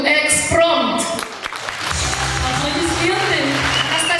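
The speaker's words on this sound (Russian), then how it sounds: "Аплодисменты." Applause from the audience at a Khakas ethnic song contest awards ceremony, a steady wash of clapping that carries through the clip with talk over it.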